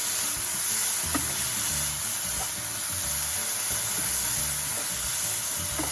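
Soy sauce poured into a frying pan of vegetables, with a loud, continuous close sizzle and occasional stirring clatter underneath.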